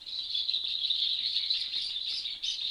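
Continuous high, thin chirping of a bird at a house, a steady shrill trill held throughout with small fluctuations, fairly close and alone with no talk.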